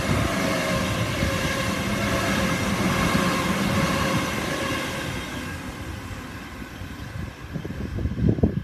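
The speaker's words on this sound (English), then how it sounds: "What a Waratah passing." A Waratah electric passenger train passes at Padstow, a loud steady rumble of wheels and motor roar that gradually fades, with rattling clatter picking up near the end.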